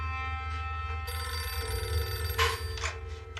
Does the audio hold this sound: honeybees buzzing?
no